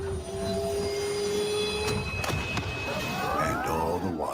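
Train wheels squeal and a carriage rumbles steadily on a ride home, with long pitched whines and sudden metallic squeaks over a constant roar, in an advertisement sound effect.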